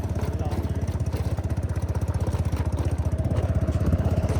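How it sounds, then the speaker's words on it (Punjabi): Idling motorcycle with a loose front end that rattles, a close, steady rapid engine putter with metallic clatter continuing evenly throughout. "ਖੜਕਦਾ ਹੀ ਬਹੁਤ ਆ ਮੂਹਰੇ ਮੂੰਹ ਜਾਂ ਮੋਟਰਸਾਈਕਲ ਦਾ"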